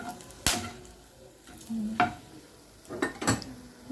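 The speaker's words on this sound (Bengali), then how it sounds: "জিরে আর দিয়ে দেবো গোটা গরম মশলা এগুলো একটু হালকা নাড়াচাড়া করে নিই" Whole cumin and whole garam masala stirred briefly in hot oil for a doi katla fish curry: a faint background sizzle broken by a few sharp spoon scrapes and taps against the pan.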